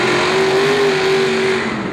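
Diesel 4x4 trucks Avenger and XDP Diesel sit on the line at a drag race track, engines droning loudly and steadily with a sustained tone, no voices over the roar.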